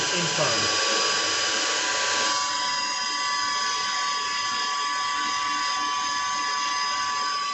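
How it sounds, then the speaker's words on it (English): A machine cuts a 5 mm pocket into a valve with a loud, continuous high-pitched whine and grinding hum that holds steady the whole time. "So powering on the machine, and the machining in there, creating a pocket"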